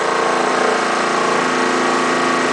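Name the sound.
portable dual tub washing machine spin dry cycle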